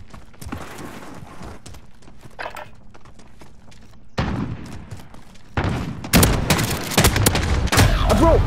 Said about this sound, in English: Bro, I hit you twice with the shotgun